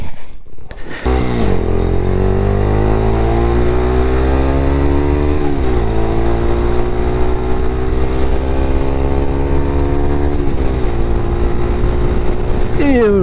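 A Daelim Daystar 125 cruiser motorcycle pulls away and accelerates hard, its loud close engine note climbing through the gears with rising harmonics and a brief dip at each shift, the rider close by.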